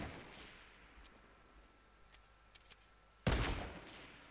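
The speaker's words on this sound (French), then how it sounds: "Ça c'est le sniper coup par coup normal, épique." A single loud shot from an epic single-shot sniper rifle in Fortnite cracks out near the end, preceded by a few faint clicks and small noises over a quiet background.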